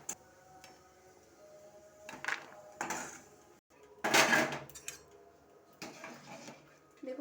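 Metal spoon scraping and clanking in a pan as fried nuts are lifted out while cooking basmati rice khichuri, a few irregular scrapes and knocks at close range with no talk.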